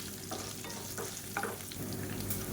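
Onions and green chillies sauté in a pan for a roadside-style onion kurma, giving a steady close sizzle with a few soft stirring scrapes and no talk.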